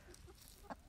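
Chickens kept in a coop near a house in cold weather, a few soft clucks and one brief louder squawk close by against a quiet background, no talking.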